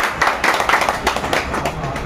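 Audience clapping at a community event held by a social foundation, brisk close hand claps filling the whole short stretch with no voices over it.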